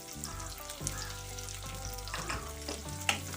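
Large square-cut onion pieces frying in a pan for restaurant-style chilli chana give a steady sizzle with stirring, heard under background music throughout.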